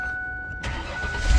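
A car engine cranks and catches, turning over and settling into a rumbling idle after a brief quiet stretch, loud and close with no voices.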